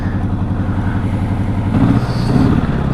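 A motorcycle engine idles fast and steady with a throbbing low rumble, growing a little louder and rougher near the end.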